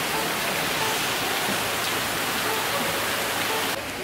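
Steady, broadband rain pours continuously at an even level, a dense hiss with no voices over it.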